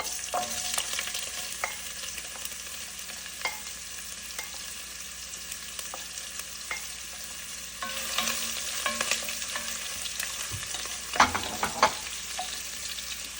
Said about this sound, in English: when the mustard seeds are completely popped, I'm going to add the sliced coconut and roast them